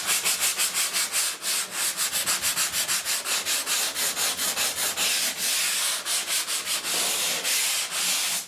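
A drywall patch gets hand sanded in fast, regular back-and-forth strokes, a loud close scratchy rasp with a steady rhythm and no voices.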